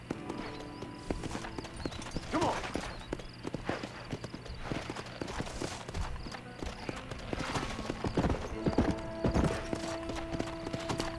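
Horse hooves clip-clopping in Red Dead Redemption near Fort Mercer, a steady galloping rhythm of close, moderately loud hoofbeats with game music and ambience underneath and a brief whinny.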